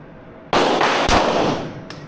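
A single loud gunshot from a handgun at an indoor shooting range in Krakow, a sharp close blast with a ringing decay, followed by a faint metallic click.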